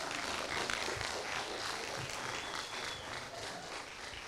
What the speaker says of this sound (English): Let's just clap for them